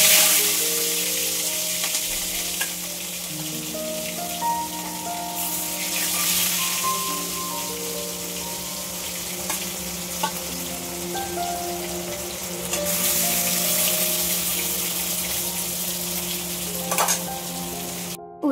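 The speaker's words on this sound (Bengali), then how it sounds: "ওদিকে মাছ ভাজা বসিয়ে দিয়েছি" Fish fries in a pan with a steady bright sizzle that swells louder at times, while a melodic tune plays in the background throughout.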